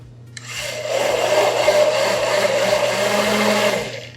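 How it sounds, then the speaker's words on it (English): A hand blender whirs steadily for several seconds mixing ganache, starting up and then cutting off, its motor buzz loud and close with a rough mixing texture. "we'll finalize it with the hand blender"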